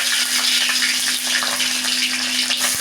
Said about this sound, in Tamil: எண்ணெய் காய்ச்சிச்சுங்க, கடுகு போட்டாச்சுங்க,